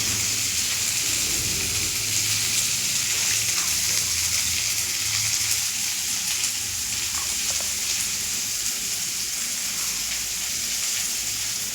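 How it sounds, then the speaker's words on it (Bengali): Water poured into poppy seed paste in a kadai, producing a steady, even hiss and sizzle like light rain that holds for about twelve seconds, moderately loud, with no voices. "জল দিয়ে নিচ্ছি।"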